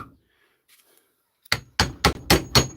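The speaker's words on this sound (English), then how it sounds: "we'll hammer it on and work it" An anvil is driven onto a DeWalt tool with a hammer: five sharp, loud metallic strikes in fairly quick succession after a brief quiet pause.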